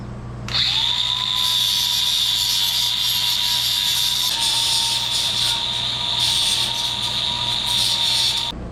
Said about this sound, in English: take a grinder with a cutoff wheel and just cut that real easy